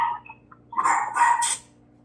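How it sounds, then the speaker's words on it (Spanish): A small dog barks in a few sharp, close yaps with a softer whimpering sound before them, heard alone at moderate volume. "Tuve que silenciar a un perrito gritón que andaba por ahí."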